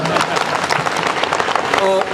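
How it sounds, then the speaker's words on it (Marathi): An audience at a community gathering gives a short burst of applause under a speaking voice, the clapping steady and fairly close for about two seconds. "त्यामुळे त्या टाळ्या मला मत न देणाऱ्यांकरता देऊया"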